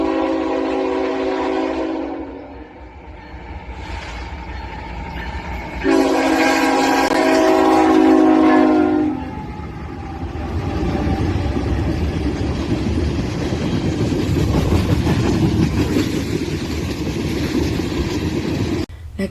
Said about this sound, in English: Next up, we have a Norfolk Southern AC-44 C6M trailing second.